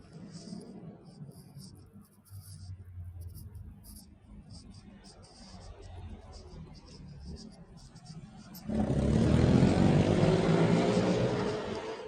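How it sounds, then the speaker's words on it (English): Loud, broad traffic roar from a busy road near a bus stop swells in abruptly after a quieter stretch of distant rumble and murmuring voices, then holds steady and close. "Very loud traffic."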